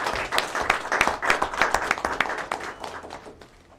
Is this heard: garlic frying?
no